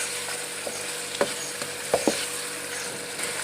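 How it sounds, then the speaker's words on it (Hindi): Boiled chicken frying in a pot with whole cumin, a steady broadband sizzle holding throughout, broken by a few short scraping clicks of stirring; close and moderately loud with no voices. "चिकन को अच्छी तरह भूनना है।"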